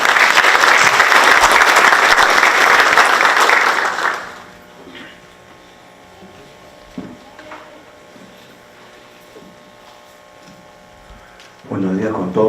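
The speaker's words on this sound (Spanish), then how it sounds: "recibamos con fuertes palmas al ingeniero Lionel Fidel Small" Audience applause at a geology conference for World Water Day in Peru, a loud, dense burst of clapping lasting about four seconds before fading to a quiet room with faint movement, then a brief return of noise at the end.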